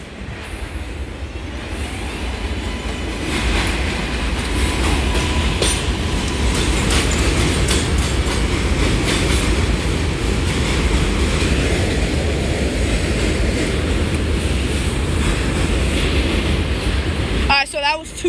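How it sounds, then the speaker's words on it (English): New York subway trains roll past the elevated Junius Street/Livonia Avenue stations, a loud sustained rumble of wheels and cars with rhythmic clatter, close by and continuous before ending in abrupt clunks. "All right, so that was two trains."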